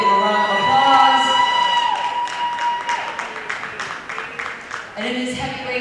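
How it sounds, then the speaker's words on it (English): Crowd applause and cheering at an amateur heavyweight boxing bout, with loud whistles and shouts over steady clapping that dips in the middle and swells again at the end. "let's give these two boxers one more big round of applause."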